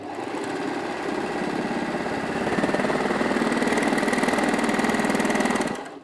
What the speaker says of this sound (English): we'll go ahead and sew that lovely neat 4-thread overlocking stitch now